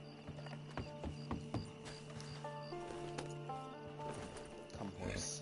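A horse's hooves clip-clop in a brisk, irregular rhythm in the video game Red Dead Redemption 2 Online, close and clear over soft game ambience with scattered musical tones.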